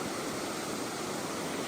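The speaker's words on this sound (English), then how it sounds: "the main thing here is these waterfalls. Or they're really like rapids" Waterfall rapids on a hike near Carteret, France, produce a steady, dense rushing roar that continues unbroken and evenly loud, with no voices over it.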